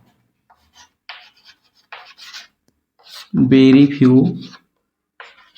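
A teacher's chalk or pen scratches out a grammar rule in short, separate strokes, with a brief burst of speech in the middle.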